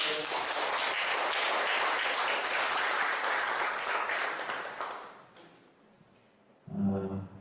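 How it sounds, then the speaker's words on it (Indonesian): Audience applause in a lecture hall, a dense burst of clapping lasting several seconds before fading out, followed by a short thump. "Berikan aplaus yang meriah"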